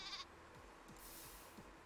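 Minecraft goat giving a short, quiet bleat, a brief faint cry within a muted game soundscape.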